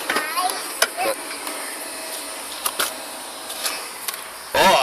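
A Henry Hoover vacuum cleaner runs while cleaning a car, giving a steady, loud whooshing drone broken by scattered clicks and knocks of the nozzle, with a brief louder burst at the end.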